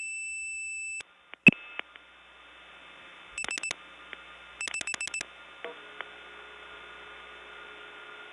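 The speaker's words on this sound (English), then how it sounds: "there's a nice relay sound" Relay clicks from a 1979 step-by-step tandem telephone exchange after dialing 35: a steady tone cuts off, then sharp clicks and two bursts of rapid relay chatter come through a faint line hum, ending in a low steady trunk tone.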